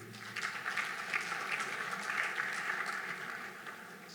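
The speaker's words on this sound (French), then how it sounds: "qu'on applaudisse s'il vous plaît." Audience applause at a French artificial intelligence conference panel, welcoming a moderator; steady, dense clapping from a sizable crowd that holds fairly even for the whole stretch.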